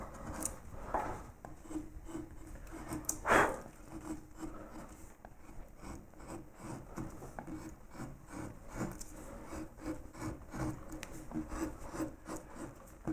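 Straight carving tools cutting into wood while shaping a hellebore-like flower for a carved swag, giving soft, close scraping and rubbing strokes in an irregular rhythm with one louder gouge cut partway through.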